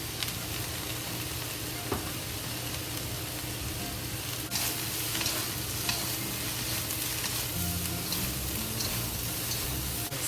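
Vegetarian rice noodles stir-fry in a big pan over high heat, with a constant loud sizzle, scraping and tossing sounds throughout and no talking.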